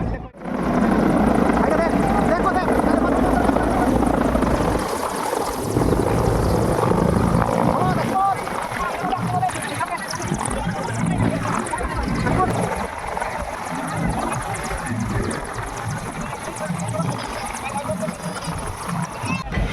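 Three Indian Air Force helicopters landing in a Mayurbhanj village for a presidential visit, their loud, steady rotor roar and engine whine filling the scene throughout, with crowd voices underneath.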